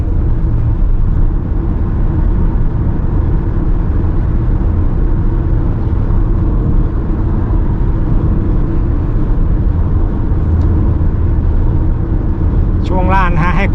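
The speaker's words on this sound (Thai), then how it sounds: "อยากจะเร่งแซงอะ ไปเลยเห็นไหมคลิกดาวแล้วรถไปเลย พุ่งไปเลยเห็นไหม" Low, steady engine rumble and road noise inside a Haval H6 SUV accelerating hard to overtake, a constant loud drone with someone talking over it throughout.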